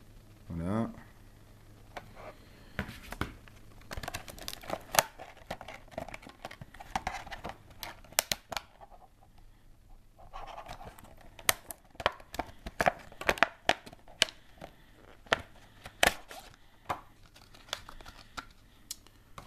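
Packaging of an official LG Optimus G E975 bumper case being opened by hand, with dense crinkling, tapping and crisp plastic rustles, some sharp and close, while someone speaks French throughout.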